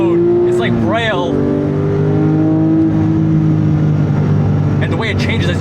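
A Porsche 997 GT3 engine on the road, revving up and then dropping sharply through a downshift, with a loud, close, continuous engine drone under a voice speaking.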